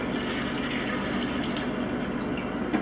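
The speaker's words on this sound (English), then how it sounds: "I just added water to the bucket. I'm gonna go ahead and put that in as well" Water poured from a bucket makes a steady, close splashing pour that runs on evenly without pause or talk.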